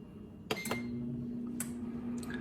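Air fryer set to 370 degrees with a 15-minute timer being started: a few sharp electronic beeps and clicks, then a steady low hum running quietly underneath in a kitchen.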